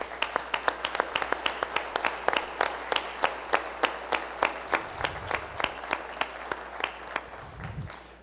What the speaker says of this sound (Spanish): Por eso me permito pedirles un aplauso a su memoria.